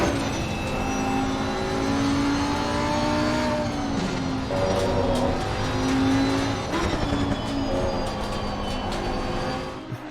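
Cup race cars lapping Silverstone in the Assetto Corsa racing game: a continuous loud engine drone with shifting pitch from several cars running close together, with no talk over it.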